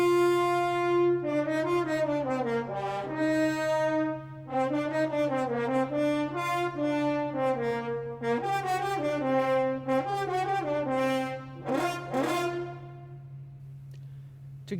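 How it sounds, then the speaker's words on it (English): French horns play a sustained, warm melodic line with smoothly connected notes over a steady low hum, continuing throughout without speech. "The horns."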